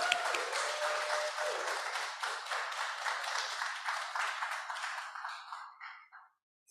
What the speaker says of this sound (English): Can we please give a big warm round of applause for Drew Pissarra,